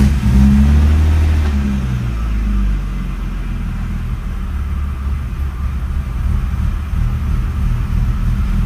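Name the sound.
BMW E36 car engine running at idle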